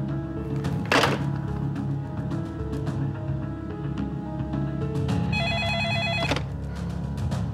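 A telephone rings with repeated electronic trilling bursts, accompanied by a couple of sharp thunks as the handset is handled, with a steady background hum and no talk.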